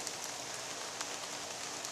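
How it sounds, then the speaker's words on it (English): Rain falls steadily on a hammock camp during a storm, a dense, even hiss of drops pattering on surfaces nearby, fairly soft and continuous with no talking. "you can see the wind's picking up, the rain is picking up"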